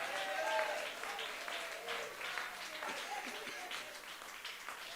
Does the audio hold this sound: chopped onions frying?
no